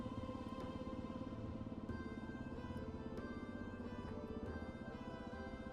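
A Kawasaki KLR 650 dual-sport motorcycle rides on an icy day, its single-cylinder engine throbbing steadily and evenly, heard close from the rider's position with little change in pitch.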